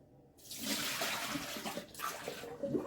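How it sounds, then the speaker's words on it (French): Excess water poured out of a cooking pot while making radish-top soup, a continuous close splashing pour lasting a couple of seconds with a brief gurgle near the end. "J'ai enlevé un peu d'eau et au pire, j'en remettrai après."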